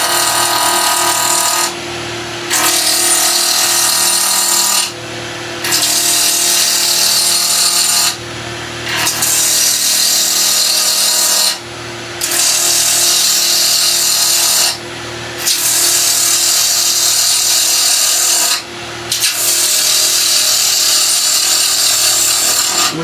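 A wood lathe spins a pen blank while a bowl gouge takes roughing cuts, making a loud, harsh scraping and tearing noise in several long bursts with brief pauses between them, with no voices.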